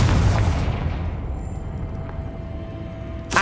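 Confringo blasting curse exploding in Hogwarts Legacy, a single booming burst at the start that fades into a low rumble, with a quiet tone lingering and a brief sharp hit at the very end.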